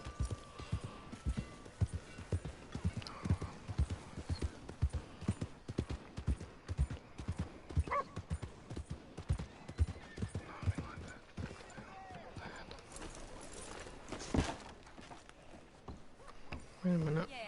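Horse hooves clip-clop steadily in Red Dead Redemption 2, a mistreated horse plodding along in a rhythmic series of close, distinct hoofbeats, with a brief whinny near the end and someone talking over parts of it.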